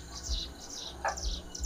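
A standard-song canary sings in repeated high, bright chirping phrases, four short bursts spread across the moment with a brief lower note in the middle, close and clear over a low background rumble.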